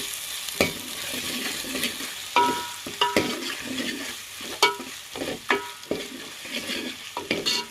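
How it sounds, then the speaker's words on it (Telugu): Vegetables frying in a pan while being stirred, with repeated scraping strokes and clatter over a steady close sizzle, no talking. "బాగా మొత్తం బాగా ఫ్రై చేసేసుకోవాలి."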